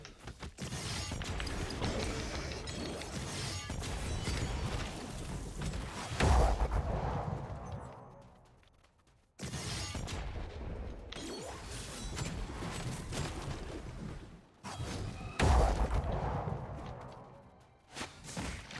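Two big explosion shockwaves from the action RPG Wolcen: Lords of Mayhem, each a loud roaring blast that decays over several seconds, separated by a sudden drop to near silence.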